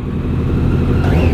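A Triumph 675R sport motorcycle on a track, its engine running loud and close with a rising rev near the end.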